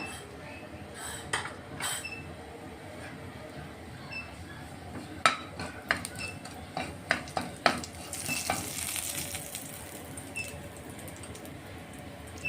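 Cumin seeds fry in butter with a quiet, steady sizzle, broken by a run of sharp pops and light clicks midway, then a brief swell of hissing.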